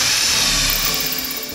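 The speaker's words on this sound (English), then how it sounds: "When you've completed your pilot drill," Close power drill whirring as it bores a pilot hole into a door for fitting a door closer, a loud continuous whine that eases off slightly toward the end.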